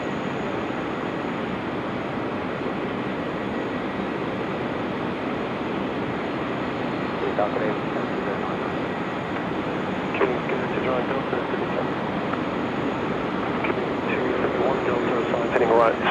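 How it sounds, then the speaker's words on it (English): Qantas airliner inbound from Perth arriving at Sydney Airport, a steady distant jet roar with some rumbling swells toward the end, heard alone without talk. "Qantas 646 inbound from Perth."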